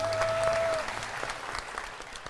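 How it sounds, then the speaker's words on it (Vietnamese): A studio audience claps in a steady, dense burst of applause that fades slightly toward the end, with a brief tone in the first moment. "xin quý vị vỗ tay"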